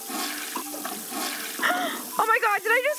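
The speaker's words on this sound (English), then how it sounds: "did I just flush the crab?" Toilet flush in the VR video game V-Baby Go, a gurgling swirl of water mixed with a person's excited, high-pitched talk over it.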